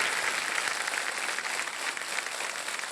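Studio audience of a televised quiz show standing and clapping, a dense even roar of many hands that stays steady and unbroken for the whole stretch, moderately loud.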